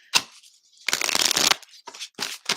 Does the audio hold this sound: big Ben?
no